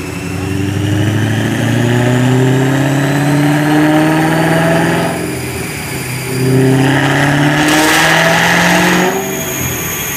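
A supercharged 1993 Ford Lightning F-150 truck, built by SVT, revs loudly in two long pulls. Its engine note climbs and drops close to the listener with a whining overtone, and no voices are heard.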